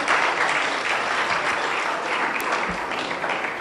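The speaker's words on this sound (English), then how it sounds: "Another round of applause for the Finance Minister." Sustained audience applause at a government town-hall meeting on the e-levy, greeting the Finance Minister; steady, dense clapping from a large crowd, fairly close and even in loudness throughout.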